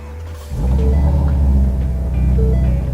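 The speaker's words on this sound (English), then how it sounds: "So if I start the car up" A 2017 Ford GT350 Mustang engine cranks and catches about half a second in, settling into a loud, deep, steady idle rumble close by.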